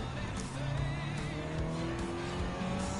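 Race cars on the Alpine Hill track in Gran Turismo 7, including a Nissan Fairlady 240ZG Type HS30, engines whining and droning close with tires squealing through corners, continuous and loud.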